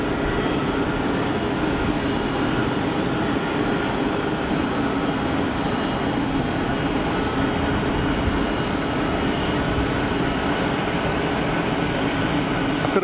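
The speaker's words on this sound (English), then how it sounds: "Let's watch this 330 roll out" An Airbus A330 airliner rolls out at Geneva Airport, a steady broad roar of jet engines and rushing air that holds at an even, fairly loud level throughout, with no voices over it.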